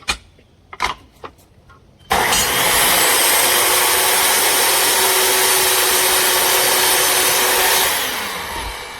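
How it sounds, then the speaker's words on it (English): A SKIL 10-inch dual bevel sliding compound miter saw cutting wood, the motor whining up loudly after a few clicks and holding a steady, close cut for several seconds before winding down. "This is a really good miter saw."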